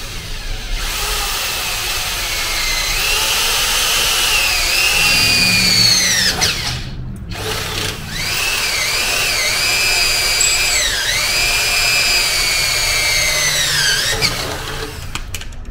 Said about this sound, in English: So now I'm gonna drill some hole.